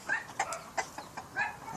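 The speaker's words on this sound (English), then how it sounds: "This is other chickens." Chickens cluck in short, soft bursts at a moderate distance, several quick calls scattered over a quiet outdoor background.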